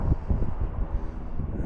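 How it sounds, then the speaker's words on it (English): A low, pulsing rotor thump beats steadily amid gusty wind buffeting, as a Black Hawk helicopter passes nearby. "Pretty sure that's a Black Hawk helicopter."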